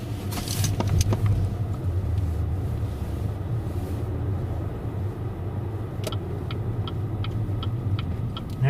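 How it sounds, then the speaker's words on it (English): A car idles and drives just behind, a low steady engine rumble under a faint rhythmic ticking like a turn signal, with occasional brief clicks, heard from inside a vehicle. "Naturally, all of a sudden there's a car behind us."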